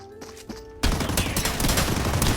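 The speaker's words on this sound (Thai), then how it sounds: "ไอเนี่ย ปืน M4 ครับ" M4 rifle in a video game, a few faint shots followed by a sudden loud burst of rapid automatic fire that continues densely to the end.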